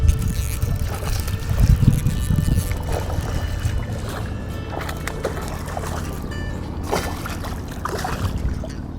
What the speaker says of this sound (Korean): 날씨도 축하를 해주는지 바람이 엄청나게 불어옵니다.